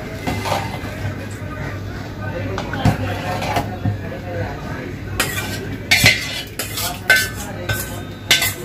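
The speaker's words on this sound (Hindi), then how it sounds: "हिलाते रहना चाहिए, नहीं तो फिर वो क्या गुठली उठली बन जाएगी, गांठ हो जाएगी, इसलिए हिलाते रहिए" A spoon stirs spicy nihari in a cooking pot, scraping and clinking against the metal in irregular strokes with louder knocks toward the end, close up over a low simmering hiss.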